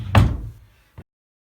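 A wooden drawer on newly fitted drawer slides shuts with a solid, close thump, then a short, light knock follows before silence.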